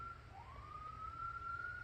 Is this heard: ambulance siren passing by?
yes